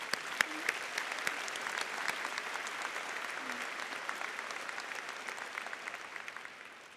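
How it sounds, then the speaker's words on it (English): Audience at the Taylor High School graduation, celebrating its 100th graduating class, applauds as honored district staff stand: a dense, steady wash of many hands clapping for about seven seconds, with occasional sharper claps, tapering off at the end. "please stand for a round of applause"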